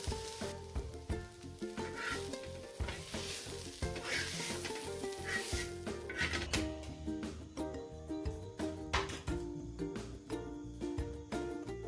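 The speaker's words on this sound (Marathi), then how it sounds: "आपण कांदा परतताना त्यात थोडंसं मीठ घालणार आहोत" Onion sautés with a little salt on a flat tava griddle, giving a steady close sizzle with stirring, over a tonal background sound throughout.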